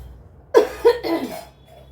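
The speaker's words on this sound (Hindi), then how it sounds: "इतनी तगड़ी खांसी उठेगी" A short burst of two or three harsh coughs, close and fairly loud, in an otherwise quiet room.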